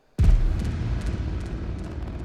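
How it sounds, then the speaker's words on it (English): Rocket launch sound effect loop from Logic used in a music remix: a sudden deep rumbling burst that starts abruptly, then a sustained roaring low rumble with crackling texture that slowly fades, heard alone. "stacked on top of that is a rocket launch audio effect"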